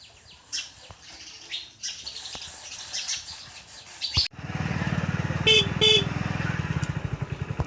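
A motorcycle engine starts up and runs with a steady close throbbing putter, after a few seconds of light outdoor sounds and bird chirps.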